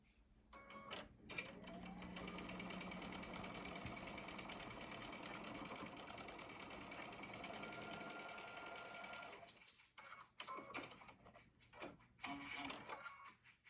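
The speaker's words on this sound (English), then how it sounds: "I'm going to stitch down this line at 1/4 inch" A sewing machine stitches a quarter-inch seam down a quilt block, running at an even whirring pace for several seconds, then slowing into a few short bursts and clicks near the end.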